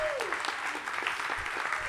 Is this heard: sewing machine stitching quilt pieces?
no